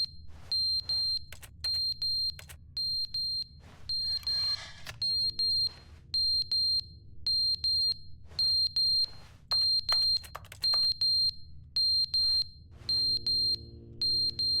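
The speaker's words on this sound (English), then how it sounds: "Well, I can't fix that alarm on the ceiling." A ceiling smoke alarm in The Stanley Parable: Ultra Deluxe chirps in short, evenly spaced electronic beeps, clear and steady over a low background hum, with a few brief extra game sounds in between.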